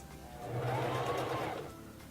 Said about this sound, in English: turn the stitch selector dial back to the number 4 and sew for about 6 to 8 stitches